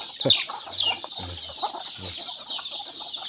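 Farmyard chickens cluck and call at morning feeding, with a few short low clucks and brighter squawks over a steady background of distant bird chatter, moderately close.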